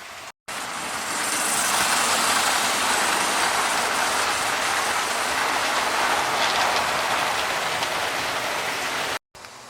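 A model train, including a Triangle-brand engine, runs around a home layout with a steady close rattling whir of wheels on track that continues evenly for several seconds, with brief cut-outs at the start and end.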